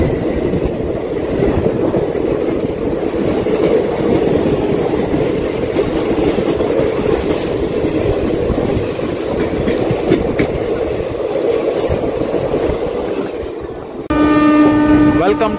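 A Rajahmundry to Araku special train runs near Samalkot Junction with a steady loud rumble and rhythmic wheel clatter throughout, ending in a sharp horn blast, while a voice talks over it at times.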